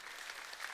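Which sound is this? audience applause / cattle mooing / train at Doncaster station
audience applause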